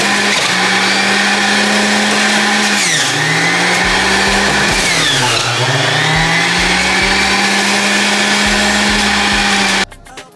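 A juicer runs loud and close while processing beets, mango, apples, lime, lemon, ginger and turmeric root. Its motor whines steadily, and the pitch sags and recovers as the produce is pushed through, before the machine cuts off near the end.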